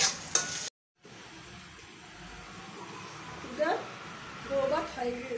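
Onions frying with turmeric for a dried fish mash give a low sizzle with occasional scraping stirs, broken by a brief silence near the start, and talk is heard.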